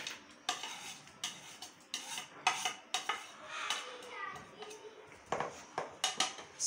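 Pakora batter with spinach is worked in a bowl with a utensil, producing repeated close clinks and scrapes in an uneven rhythm, fairly quiet, with faint voices in the background.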